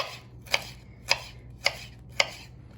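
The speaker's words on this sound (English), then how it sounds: "I'm gonna use some cabbage for some color. Okay, and we're just gonna slice it." A knife slicing through a red cabbage on a cutting board for a green leaf salad, four crisp, evenly spaced chops about half a second apart, close and clear over a faint low hum.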